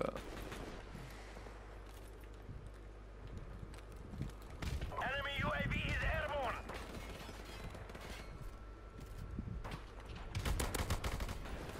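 CQ300 rifle firing in a video game, rapid bursts of shots in short volleys over a steady game backdrop, with a brief tonal sound midway and talk faintly underneath.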